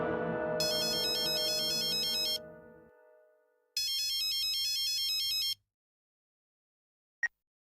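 A mobile phone ringtone plays repeatedly during an unanswered call, a looping electronic melody in two loud bursts separated by a pause, with a short beep at the end and no voices.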